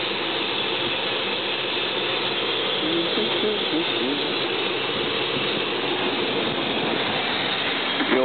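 A 4.8 L V-8 engine fed on gas vapors through its air intake, with the fuel pump relay unplugged, runs steadily close by as an even, dense mechanical drone with a fine rattling texture throughout.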